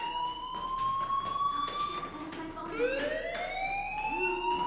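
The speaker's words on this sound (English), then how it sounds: "do you hear that fire alarm? That means you should be outside." A fire alarm blares in the video game Life Is Strange: loud, steady electronic tones with layered harmonics that shift and sweep upward partway through, sounding continuously and close, with no talking over it.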